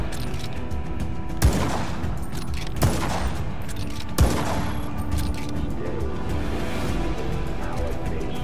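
Sniper rifle shots in Just Cause 3: three heavy, widely spaced reports, each with a booming tail, over a steady game background rumble and low ambience.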